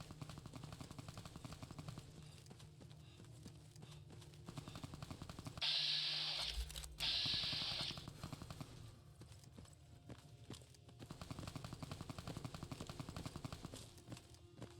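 Submachine gun fire in Fallout: New Vegas, a fairly faint stream of rapid, regular shots repeating throughout, with one louder, harsher burst partway through.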